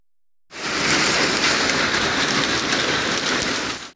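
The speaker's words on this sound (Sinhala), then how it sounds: "අද සවස 3ට පමණ අයිස් වැස්සක් ඇති වූ බව ප්‍රදේශවාසීන් පවසනවා" An afternoon hailstorm in Ridimaliyadda, Badulla district, begins abruptly as a loud, dense, unbroken roar of ice pelting down. It holds steady for several seconds before cutting off, with no voices.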